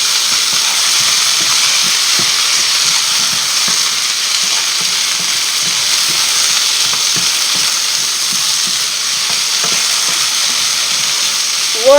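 Potatoes fry in a pan with parsley and herbs, giving a loud, constant sizzle and hiss close up, with soft scraping and stirring knocks scattered through it.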